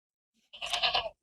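A single goat gives a close, clear bleat lasting about half a second, nasal and slightly wavering, with silence around it.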